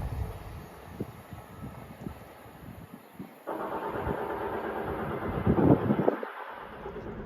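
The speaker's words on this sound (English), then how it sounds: "Passing through now is a Great Western Railway service from Bristol Temple Meads to London Paddington" A Great Western Railway service from Bristol Temple Meads to London Paddington passes through Iver station, its rumble swelling from a faint approach into a sustained, louder roar of rolling wheels heard from the platform.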